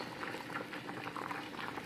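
A pot of speckled coroado beans at a steady rolling boil on a home stove, with dense continuous bubbling and popping, close and moderately loud, no voices.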